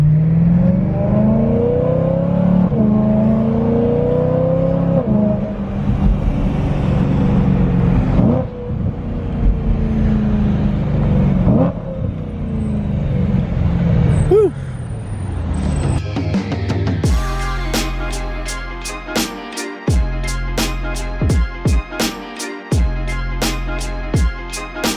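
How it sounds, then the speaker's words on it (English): Car interior while driving in slow Los Angeles traffic: a steady low engine and road rumble for most of the stretch, shifting near the end to a pulsing, rhythmic droning throb with sharp repeated ticks layered over it. "just classic LA traffic"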